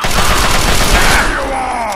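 Gunfire in the video game Fallout 3, a dense, loud burst of overlapping shots running continuously for a couple of seconds with no voice over it.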